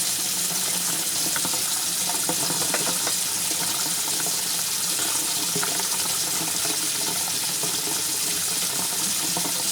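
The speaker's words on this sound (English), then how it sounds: "I'm making sure the water's not too hot." Water runs steadily from a sink tap in a soap-making workspace, a constant close splashing gush with no pauses or speech.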